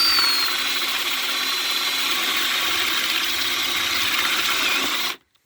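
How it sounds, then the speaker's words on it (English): A power drill bores a concealed hinge hole through a Kreg jig, a steady close whine running without pause for about five seconds before cutting off abruptly. "and then literally all you do is drill it"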